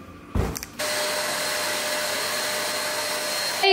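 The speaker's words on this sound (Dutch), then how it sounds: "Even toch snel de stofzuiger er doorheen gehaald." A vacuum cleaner cleans a home floor: a brief clunk as it starts, then a loud, steady whining roar that runs close and continuous, with no talk.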